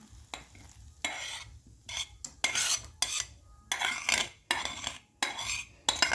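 A spoon scrapes and stirs semolina sheera prasad in a pan and scoops it into a bowl, making a series of close, irregular metallic scraping bursts with short pauses between them and no talk.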